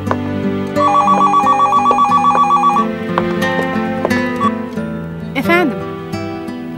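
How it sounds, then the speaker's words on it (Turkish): An old-style telephone bell rings in a repeating burst over a dialogue scene, with music and voices around it in a Turkish TV drama interior. "Nazlı, telefon sana."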